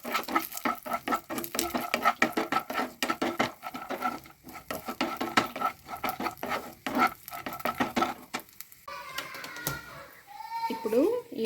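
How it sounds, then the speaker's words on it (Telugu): Almond and cashew pieces fry in melted ghee with a steady sizzle and busy, rapid stirring scrapes against the pan, close and fairly loud; a brief voice comes in near the end. "నెయ్యి కరిగి హీట్ అయిన తర్వాత కాస్త బాదం పలుకులు, జీడిపప్పు పలుకులు వేసి ఫ్రై చేసుకోవాలి."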